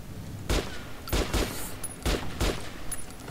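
Bursts of gunfire in the video game Metro Last Light, four loud, evenly spaced volleys of rapid shots with brief lulls between them, no talk over them.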